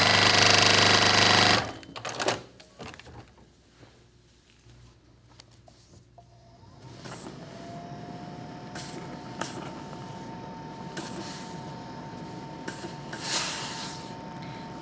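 After a brief burst of noise, a sewing machine hums steadily as it stitches foundation-paper-pieced fabric right sides together. The whirring motor runs continuously at moderate volume with a few light clicks and no speech.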